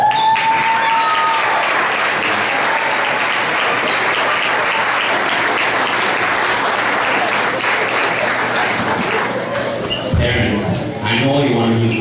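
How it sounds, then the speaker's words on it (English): Loud, sustained applause from a standing crowd at a 2019 Eritrean community graduation ceremony in Ottawa, honoring the graduates' parents, continuing steadily for about ten seconds before tapering as voices emerge near the end. "can I get a standing ovation for our parents?"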